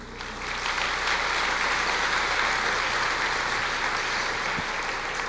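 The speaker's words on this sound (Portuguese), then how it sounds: "Pode aplaudir" Congregation clapping during a sermon, the applause swelling within the first second into a sustained, even roar of many hands over a low hum, holding for several seconds.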